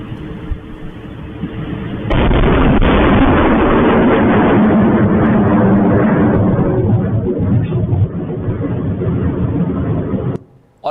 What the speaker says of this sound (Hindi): ये पाक मिसाइल को मार गिराने की आवाज आपने सुनी है।